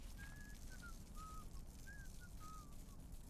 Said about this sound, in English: Now, I do hear some whistling.